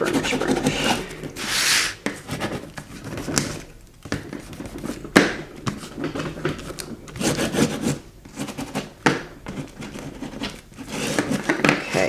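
Faux leather book cover being burnished along a folded corner and hinge during a recycled secret book box craft, heard as repeated close rubbing and scraping strokes with irregular rhythm, moderately loud throughout.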